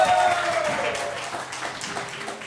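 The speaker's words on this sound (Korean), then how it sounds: "여러분 다시 한번 큰 박수 부탁드릴게요." Audience applause after a Korean folk percussion performance, clapping that fades over a couple of seconds with a voice and faint tones mixed in.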